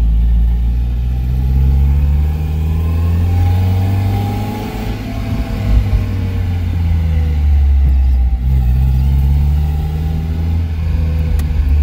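A Mazda Miata converted to a manual gearbox cruises at low speed, its engine rumbling steadily while the revs swell and ease off with a mid-pitched drone, heard close and loud from inside the car.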